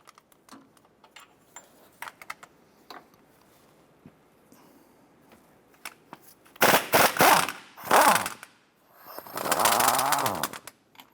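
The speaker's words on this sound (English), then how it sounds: "Use our 17mm socket, extension, and impact gun to go ahead and loosen and remove these bolts." An impact gun with a 17 mm socket and extension loosens engine mount bolts on a 2008-2012 Honda Accord, producing loud close bursts of rattling hammering, two short and one longer, after quiet clicks of handling.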